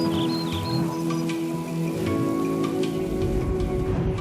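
Rain falls steadily outdoors, a continuous dense patter with scattered drop ticks throughout, loud and close, with no talking.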